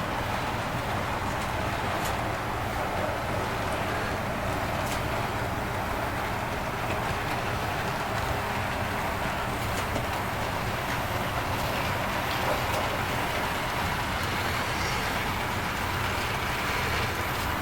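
A steady, continuous rumble of a model train running on a layout with broadband rattling noise, fairly loud and unbroken throughout, with no voices.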